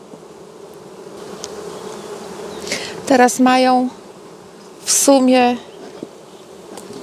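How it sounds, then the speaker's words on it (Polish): Carniolan honeybees at their hive keep up a steady, dense buzz throughout, and a person speaks briefly twice over the humming swarm. "Pszczoły są bardzo spokojne ogólnie i trzymamy się generalnie tylko karniki"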